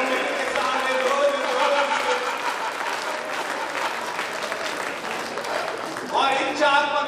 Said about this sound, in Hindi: ताली बजाओ मेरे सारे दोस्त।